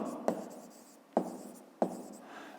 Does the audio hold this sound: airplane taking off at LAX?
no